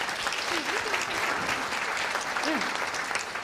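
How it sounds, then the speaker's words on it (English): Steady audience applause for a speaker at a talk on palliative care for people with dementia, a continuous dense clatter of many hands with faint voices and a brief vocal sound underneath. "Would you give Priya a round of applause?"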